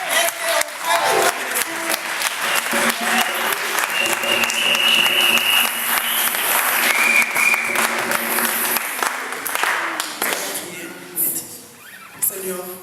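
A church congregation at a women's conference applauds and cheers to acclaim the Lord, with sustained loud clapping and voices filling the room for several seconds before it tapers off near the end.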